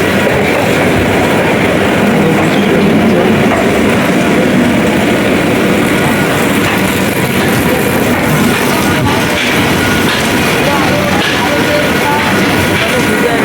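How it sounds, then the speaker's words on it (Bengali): Train moving slowly through Sealdah railway station in Kolkata on a rainy day, a loud continuous rumble and rattle of rail cars filling the whole stretch with steady wheel noise. "তো তোমরা দেখতে পাচ্ছ ট্রেন এখনো স্লো চলছে"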